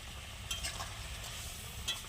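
Spicy pangas fish curry is stirred in a pan over a clay stove, with a faint, soft sizzle and two light scrapes of the spatula across a short, quiet stretch. No one speaks.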